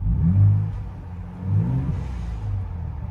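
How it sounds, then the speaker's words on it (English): A 2024 Ford Bronco Raptor in Baja mode, its exhaust swelling in two close, loud revs with a throaty rumble and brief whine, with no one talking. "when you do put it in like Baja mode or something, the exhaust does get louder."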